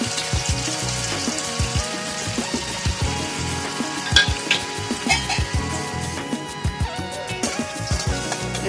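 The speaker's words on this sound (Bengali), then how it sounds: "এখন আমি তেলের মধ্যে দিয়ে দেবো পেঁয়াজ কুচি" Chopped onion frying in oil in a pan for soyabean kofta curry, a steady bubbling sizzle with clinks and stirring scrapes, close and fairly loud, no voices.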